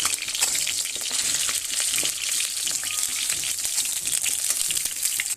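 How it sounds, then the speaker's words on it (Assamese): Fish sizzles loudly in a pan of oil, a dense, continuous crackling hiss with small pops and light spatula touches throughout, close by and without voices. "এইটো মাছখিনি ফ্ৰাই হৈছে"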